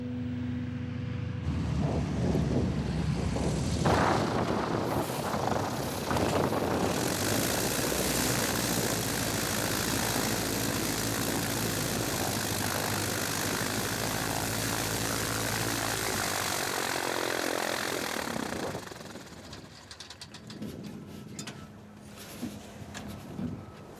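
Small propeller plane in Alaska touching down on a steep hillside slope of more than 20 degrees, a loud, close engine and propeller drone that holds for most of the time, then drops away to a quieter idle.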